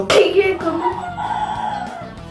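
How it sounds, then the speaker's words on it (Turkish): A rooster crows loudly nearby, a long drawn-out call, with softer background noise and faint clucking underneath. "ya bu horozlar ötüp ötüp duruyor"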